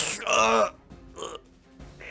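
A voice imitates a gurgle of blood with a short burst of throaty, bubbling sound, followed by a couple of softer grunting noises.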